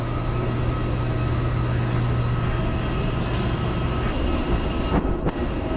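While passengers board an airliner, its engines give a loud, steady, broadband roar that fills the whole stretch. A faint low hum and a few brief knocks sit near the end.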